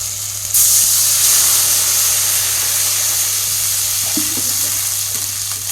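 Water pours into a pan of sizzling fried fish curry base, setting off a sudden loud burst of steamy hissing and crackle that holds steady for several seconds, close up and without talk.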